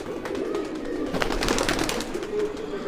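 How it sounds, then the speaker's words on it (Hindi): Black Saharanpuri pigeons cooing softly in low, rolling murmurs, several overlapping calls close by with a faint rustling background. "ये कबूतर है"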